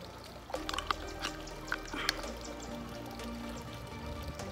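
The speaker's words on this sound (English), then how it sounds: "It drips, and it'll go on real smooth." Liquid drips and trickles from a container while showing how smoothly a product flows during an automatic irrigation repair, a soft steady pour with a few small splashy drips over a low background hum.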